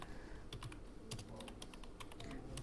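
Rapid typing on a computer keyboard during data entry in MS Office, a steady run of close, crisp key clicks with no talking.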